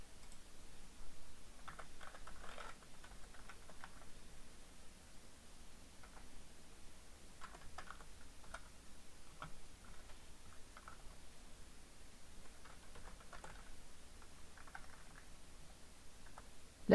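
Soft, steady typing on a computer keyboard while entering SQL code, with quiet key clicks in irregular bursts throughout, close and faint with no talk.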